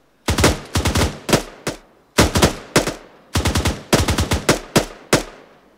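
Automatic gunfire in Arma 3 during a team-versus-team firefight. Loud, close bursts of rapid shots ring out in several quick volleys separated by short gaps, with no voices over them.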